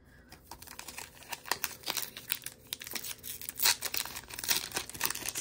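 Disney Lorcana Rise of the Floodborn card packs are ripped open by hand, a close, steady run of foil crinkling and tearing rustles that swells louder toward the end.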